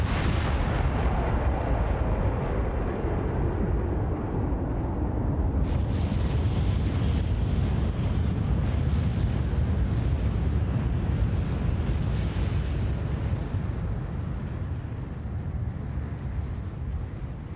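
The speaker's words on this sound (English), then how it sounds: "This is the moment it all started, the Big Bang." A Big Bang explosion effect: a massive, continuous roar of deep rumbling noise that swells and churns steadily for the whole stretch, dense and loud without pause.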